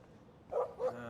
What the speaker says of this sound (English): Stop that! Stop! No barking. I want to pet the dog.